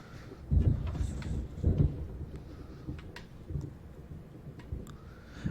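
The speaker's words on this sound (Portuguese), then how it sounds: "Acho muito legal o climinha assim de tempestade" Stormy ambience in the game Alan Wake: low rumbling thunder swells with soft rain beneath, a couple of heavier rolls early on, then fading to a steady dim wash with faint crackles, no talking.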